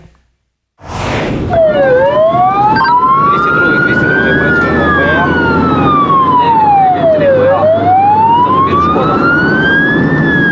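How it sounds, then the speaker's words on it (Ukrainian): An ambulance with flashing lights runs its siren on a Ukrainian street, a loud close wailing tone sweeping up and down in long cycles over engine rumble, alone without talk. "коли швидка рухається з проблисковими маячками і спецсигналом"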